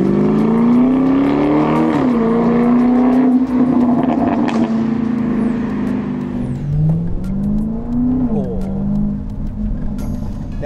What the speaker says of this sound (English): this example has an upgrade sports exhaust which is just wild